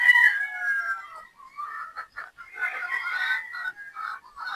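Boston Rounded pullet chickens in a cage, giving a run of close, fairly loud clucks and trilling calls in uneven bursts with short gaps between them.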